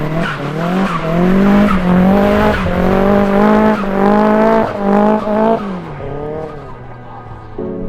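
A drift race car going sideways, its engine revving hard in rising and falling sweeps with tire squeal mixed in, loud and close for several seconds before easing off.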